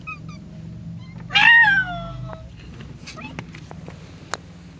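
A cat meows at birds with one loud, drawn-out meow partway through, set against quiet background noise and a few faint clicks.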